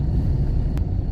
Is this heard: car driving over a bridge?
yes